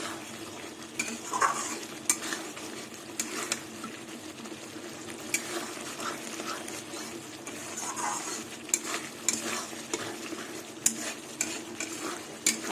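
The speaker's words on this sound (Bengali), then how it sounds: "আর একটু কষাতে হবে তারপরে জল দিয়ে দেবো" Mung dal with eggplant sautéed in mustard oil, stirred in a pan: a steady low sizzle with frequent scraping, clinking spoon strokes at an irregular rhythm, close up and with no talking.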